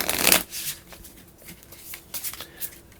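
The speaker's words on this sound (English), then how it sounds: "So you shuffle this up." A deck of power-up cards for a board game is shuffled up close, a loud riffling burst at the start followed by softer card taps and slides.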